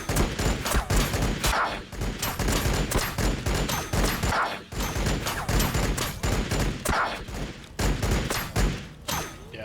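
An Invictor Warsuit of the Blood Angels opens fire on Necron Immortals in a Warhammer 40K battle, unleashing loud, dense automatic gunfire in long, nearly continuous volleys with only brief pauses.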